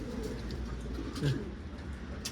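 Pigeons coo softly inside a large coop, a low steady murmur of calls with a slight swell partway through, under a constant hum.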